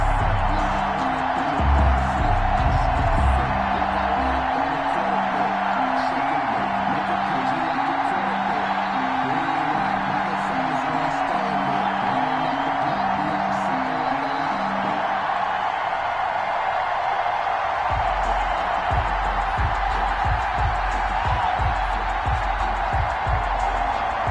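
A stadium crowd at M&T Bank Stadium in Baltimore roars in a Madden 21 simulation of the Ravens against the Rams, a dense, constant wash of cheering with low rhythmic thumps underneath that fade partway through.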